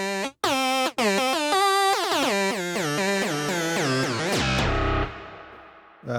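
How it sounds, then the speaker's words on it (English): A Roland Zenology software synthesizer plays through an RC24 classic-reverb emulation. Bright, buzzy notes with rising pitch sweeps come in quick succession, then a long washy tail fades out after the last sweep. "Using RC24, which is an emulation of a very classic reverb unit used in countless tracks"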